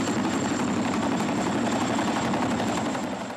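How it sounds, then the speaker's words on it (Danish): Chinook helicopter used to carry elite soldiers forward, its heavy rotor thump and engine roar loud, steady and close throughout with no talk. "En Chinook-helikopter skal bruges til at føre jægerne frem."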